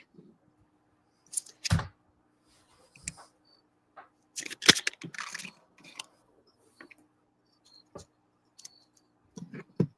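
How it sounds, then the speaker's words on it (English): Oracle cards shuffled by hand during a live reading, heard as sparse soft clicks and brief riffling bursts separated by quiet pauses, close and faint. "But I will shuffle again the cards"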